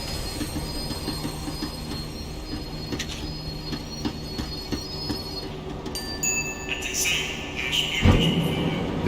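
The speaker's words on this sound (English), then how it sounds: "The tram was slowing down, and I'd only just gotten on board." A tram in Max Payne 3 slows down, its wheels squealing in a rising metallic screech over a steady rumble of rail noise, growing louder toward the end.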